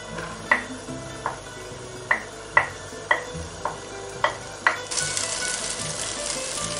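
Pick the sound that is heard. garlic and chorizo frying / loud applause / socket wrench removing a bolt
garlic and chorizo frying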